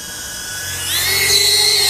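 GoFLY Falcon C90 micro drone with its small motors spinning up, a steady high-pitched whine that climbs in pitch and loudness partway through and holds near and continuous.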